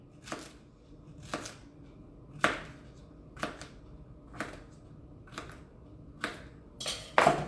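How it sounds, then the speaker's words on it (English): Zucchini being sliced with a knife on a cutting board: eight crisp, evenly spaced chops spread over several seconds, close and fairly quiet, with no talking. "I'm going to actually do some slices of zucchini"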